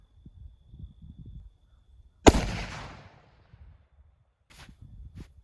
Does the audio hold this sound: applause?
no